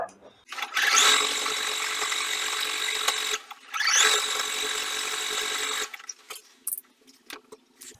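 Sewing machine running a zigzag stitch along the lining of a hooded towel, two continuous whirring runs of a few seconds each with a brief stop between, then quieter handling noise.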